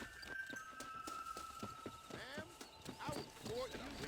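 A horse's hooves clip-clop at a walking pace in Red Dead Redemption (2010) as the rider sets off, with a whinny and other game sounds alongside.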